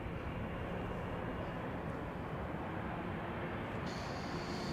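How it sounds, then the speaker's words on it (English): A year-old KLM Boeing 787-10 bound for New York JFK spools up its jet engines at Amsterdam Schiphol, a steady broad roar with a whining tone entering near the end. "KLM flight 641 to New York, JFK spooling up here."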